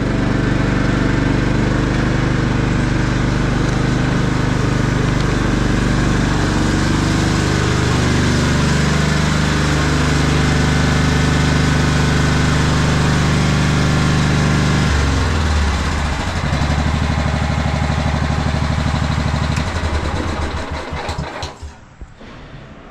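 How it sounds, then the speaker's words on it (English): A 2000 John Deere LX255 lawn tractor engine runs steadily and loudly up close, its pitch shifting a few times before it cuts off at the end. "pretty nice running engine here"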